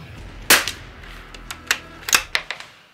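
A Christensen Arms Ranger carbon fibre rifle fires a subsonic round at a 30-yard range, a sharp crack followed by several smaller snapping impacts, near and loud against a quiet background.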